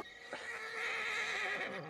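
A horse in the video game Red Dead Redemption II whinnies loudly in one long, wavering call with a faint clip-clop of hooves beneath it, alone and close.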